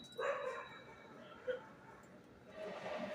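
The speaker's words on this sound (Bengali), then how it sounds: "কুকুরগুলো ডাকছে।" Dogs barking around a house, a few muffled barks and yips at a distance, faint and separated by pauses, with a low steady background hum.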